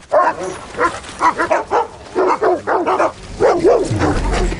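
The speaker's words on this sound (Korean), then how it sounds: "배고픈 댕댕이들은 이들을 위협하기 시작하고" Several hungry, threatening dogs barking and yipping in bursts, loud and close, with a whimper among them and a low rumble underneath near the end.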